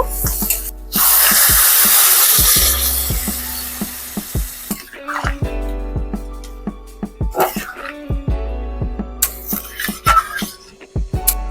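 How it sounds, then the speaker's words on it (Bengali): Water poured into a sizzling spicy crab masala curry sets off a sudden loud hissing burst that fades, followed by sharp clinks and scraping stirring in the pan, with a few later hisses. "খুব ভালোভাবে কষানো হয়ে গেছে জল দিয়ে দেব"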